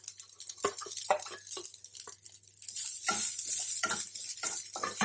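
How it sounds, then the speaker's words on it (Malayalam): Grated coconut and small shallots roasting in a hot pan over medium flame, a faint dry sizzle broken by repeated sharp scrapes and clinks of a spoon stirring against the metal, close and uneven in rhythm. "ഒരു മീഡിയം ഫ്ലെയിമിൽ വേണം തേങ്ങ വറുത്തെടുക്കാനായിട്ട്."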